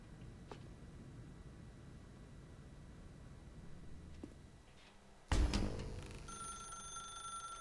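A telephone in The Stanley Parable rings out suddenly and loudly after a quiet stretch of low ambient hum, its bright bell tones continuing and sustaining to the end.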